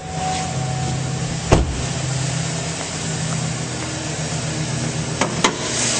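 A 2008 Chevrolet Silverado 1500 crew cab LT Z71 4WD idles steadily under an open hood, a smooth continuous engine hum with a faint hiss and a couple of brief clicks, no talking.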